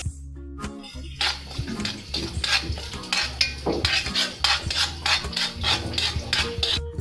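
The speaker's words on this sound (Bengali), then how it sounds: "এভাবে নেড়ে কিছুক্ষণ আস্তে আস্তে ব্রাউন করে নেব।" Sugar caramel is stirred in a pan for caramel pudding, giving a steady run of scraping, clinking utensil strokes against metal. The strokes are close and fairly loud, with a low hum underneath and no talking.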